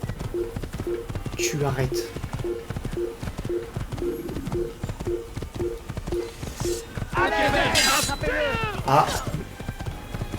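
A horse trots with clip-clopping hooves in the video game Assassin's Creed, a steady rhythmic beat in the foreground as someone talks over it and other game noises rise near the end.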